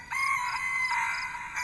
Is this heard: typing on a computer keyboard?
no